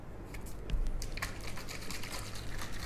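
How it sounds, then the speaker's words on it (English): Water sloshing inside a lidded plastic bottle as it is shaken, a continuous wet churning with small splashes and drips running steadily throughout, fairly close. "Put the lid on, and now we start to shake the bottle."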